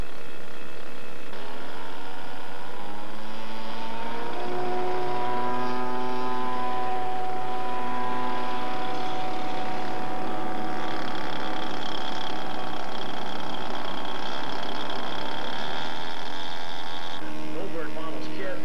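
The Weber Bully engine of a radio-controlled Zero scale model plane drones steadily with a shifting, wavering pitch, loud and continuous, then fades toward the end.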